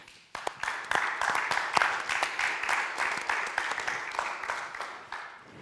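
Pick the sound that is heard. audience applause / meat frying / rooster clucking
audience applause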